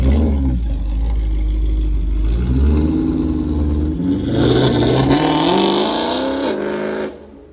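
A BMW M3 E90/E92 engine with valvetronic midpipes revs hard and loud nearby, its pitch climbing through several rising sweeps before cutting off abruptly at the end.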